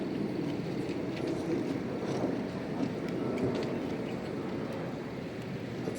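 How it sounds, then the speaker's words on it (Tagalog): Steady wind buffeting the microphone at an outdoor wedding, a constant low rumbling rush with faint ticks and rustles, no voices. "Kasi mahangin eh."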